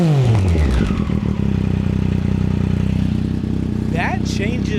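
Triumph Street Triple motorcycle fitted with an SC Project Moto2 exhaust, revving loudly and close by with a deep droning triple-cylinder note that sweeps down then holds, while people talk over it near the end.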